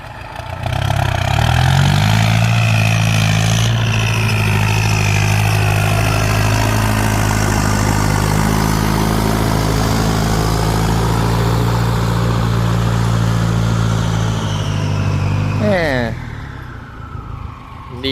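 A Ford 5000 turbo tractor engine idles loudly and steadily with a deep, throbbing rumble for a long stretch, then winds down near the end.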